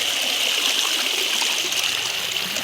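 Water driven by a running motor pump flows across a farm field, making a steady, fairly loud rushing and trickling wash that stays even throughout the short stretch.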